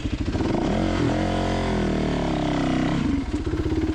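Dirt bike engine on a hard enduro trail in Jawbone, held in second gear and revved hard with a sustained, loud rising roar that drops back to a choppy idle, close to the rider.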